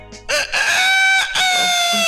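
A voice imitates a rooster crowing: one loud, close, drawn-out cock-a-doodle-doo with a strong tonal wail, delivered alone with no other talk.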